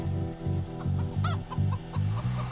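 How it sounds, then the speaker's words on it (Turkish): A free-range chicken clucks close by in a quick series of short, rhythmic clucks. "O benim serbest dolaşan tavuğum."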